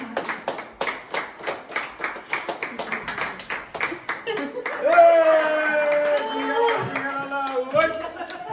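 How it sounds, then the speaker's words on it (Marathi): Clapping for a game winner at a Maghi Ganesh Jayanti festival gathering, a run of quick, fairly close hand claps for several seconds before a voice takes over and speaks over a few trailing claps. "जोरदार टाळ्या होऊन देत दादांसाठी"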